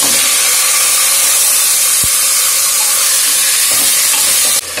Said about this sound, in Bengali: রসুনের মধ্যে ম্যারিনেট করা মাংসটা দিয়ে আমি 5 মিনিট নাড়াচাড়া করেছি